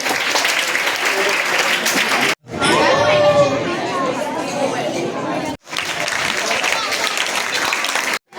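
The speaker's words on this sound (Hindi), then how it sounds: "जोरदार ताली बजाइए बच्चे के लिए" Loud applause from an audience at a Jain children's camp in Delhi, cheering for a child, with crowd chatter mixed in; the clapping runs in bursts, breaking off briefly twice.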